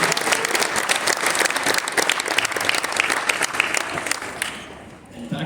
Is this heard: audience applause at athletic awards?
yes